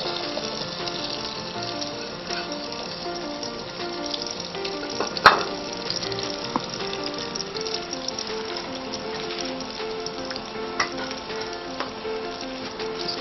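Chopped onion sizzling in hot oil in a frying pan with a little salt, a steady dense crackle throughout with occasional louder pops and one sharp clatter near the middle; no voices.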